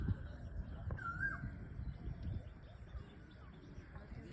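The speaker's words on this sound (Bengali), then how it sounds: "কোকিল ডাকছে।" A cuckoo (koel) gives one short whistled call near the start, faint and distant, over a low outdoor rumble in a quiet rural spot near Kolaghat with no traffic.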